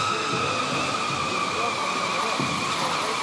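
An RC four-wheel drive truck strains in a tractor pulling contest at an indoor venue, giving a steady high-pitched electric motor whine with tonal harmonics, continuous and moderately close.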